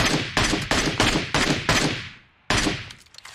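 MK12 rifle firing in PUBG Mobile, a rapid run of about six loud, sharp reports at even spacing, a short pause, then one or two more shots with a quick decaying tail, no talking.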